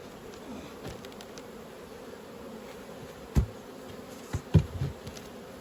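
Honeybees buzz with a soft, steady hum around an open hive during spring hive work, while a few close knocks and rustles of equipment break in near the end.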